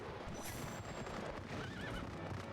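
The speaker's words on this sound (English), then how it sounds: "I got destroyed by a ghost horse." A ghost horse whinnies in Zelda: Twilight Princess, a near, loud neigh that rises and wavers over a busy in-game background, with hoofbeats clip-clopping under it.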